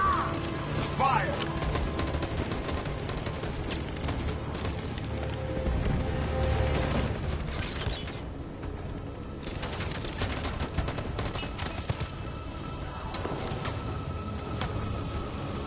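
A sustained gunfire volley from the game Detroit: Become Human, with loud rattling bursts of many weapons firing together and impacts and crashes churning steadily throughout.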